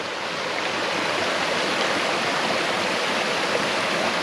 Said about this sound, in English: we're at another water crossing here